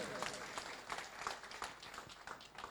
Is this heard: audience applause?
yes